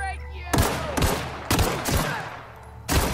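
Weapon fire in the video game The Outer Worlds comes as four or five sharp, loud gunshots at irregular intervals, each followed by a short decay, with a low engine-like drone beneath.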